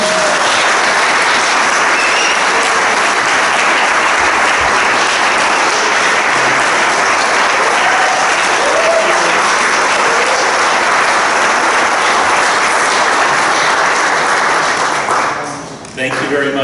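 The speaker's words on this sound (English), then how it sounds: "Give him a really welcome round of applause for coming down." An audience claps steadily and loudly to welcome Bishop John Dolan at a married couples retreat, a dense sustained round of applause that fades out near the end.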